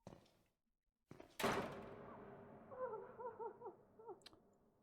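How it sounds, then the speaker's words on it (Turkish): A door slams shut in the Silent Hill horror game, a sharp loud impact followed by a lingering low rumble and faint tonal, whimpering sounds. "Ablanın yüzüne kapıyı kapattılar arkadaşlar."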